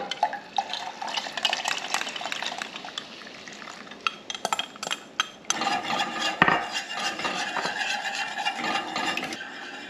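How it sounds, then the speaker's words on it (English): Steady whisking of a liquid mixture into simmering coconut milk in a pot for haupia, a continuous scraping, sloshing stir with occasional utensil clinks against the pan, close and alone without talk. "we're going to add the liquid mixture to the coconut milk and whisk it for 10 minutes"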